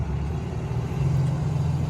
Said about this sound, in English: Sorry, loud ass truck right next to me.